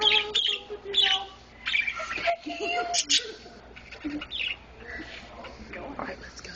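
A pet bird squawks and chirps in sharp bursts close by, while people talk over and between the calls throughout.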